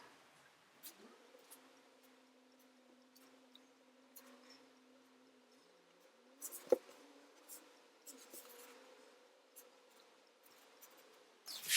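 Pencil drawing a micro car sketch on paper, soft scratchy strokes in irregular bursts over a quiet room with a faint steady hum, close and gentle with no talk.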